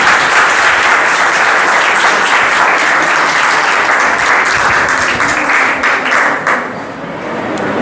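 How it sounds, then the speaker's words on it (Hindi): Loud, dense applause from an audience at a quiz and career-guidance session, sustained and even for several seconds before thinning slightly near the end. "ताली बजाइए जोर से।"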